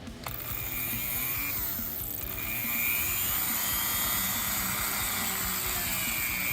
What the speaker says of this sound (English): Now when you're using this Dremel, you want to make sure that you go slow.